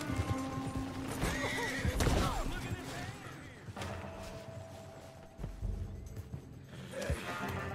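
A horse in the Red Dead Redemption 2 video game gives several loud whinnies over the clip-clop of galloping hooves, with thuds and game noise continuing throughout.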